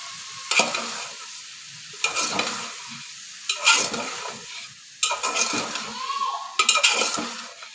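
Jackfruit seeds and ridge gourd being stirred and sautéed in a pan, with repeated scraping strokes of a spoon against the pan over a steady sizzle, clear and close.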